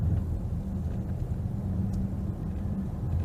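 A 2022 Bentley Continental GT Speed accelerates hard on a South African road, giving a steady, loud low engine rumble with constant road and wind roar throughout and no voices.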